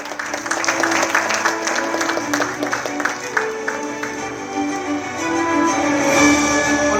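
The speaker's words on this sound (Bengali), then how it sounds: "প্রাপ্তি ওয়েলফেয়ার সোসাইটি আর প্রফেসর ডক্টর আশিস পলের জন্য জোরে হাততালি হোক।" Applause for Prapti Welfare Society at an awards ceremony, a dense wash of crowd clapping that runs steadily for several seconds and swells near the end, with tonal music or hum running underneath.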